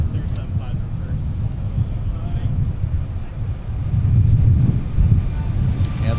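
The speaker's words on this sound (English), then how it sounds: "The LEAP has such a kind of a higher whine to it." Airliner with CFM LEAP engines at Minneapolis–Saint Paul airport, a continuous low engine roar swelling slightly toward the end, with wind buffeting the microphone and a faint high whine above it.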